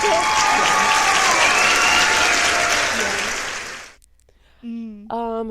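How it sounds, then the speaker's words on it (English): Loud, sustained applause and cheering from a crowd fills the first four seconds, then cuts off abruptly, and a voice follows. "Round of applause for us."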